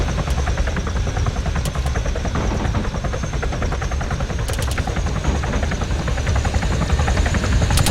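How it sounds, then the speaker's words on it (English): Helicopter flying in within the Arma 3 military game, with a loud, continuous rotor chop and turbine roar near at hand and occasional sharp cracks that may be distant gunfire. "Friendly heli's coming in"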